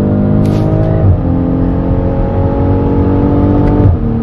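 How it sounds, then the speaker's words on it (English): A new 2020 BMW X5 M Sport engine pulls hard under acceleration, its strong droning tone climbing steadily from inside the cabin, dipping briefly at two gear shifts and then rising again. "Man, I love the sound of that engine."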